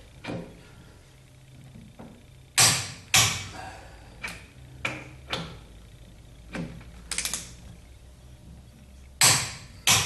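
Wheel bolts being tightened on a 1976 Corvette fitted with Torque Thrust II wheels, heard as a series of sharp metallic clicks and ratchet bursts at irregular intervals, close and fairly loud over a low background hum.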